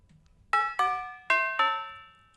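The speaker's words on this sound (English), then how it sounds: "It's the bells." Bells ring on their own from an isolated stem of a song. Four bright, clear strikes come in two pairs, each tone ringing out and decaying slowly.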